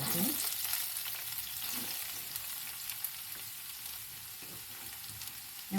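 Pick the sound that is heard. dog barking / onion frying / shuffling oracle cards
onion frying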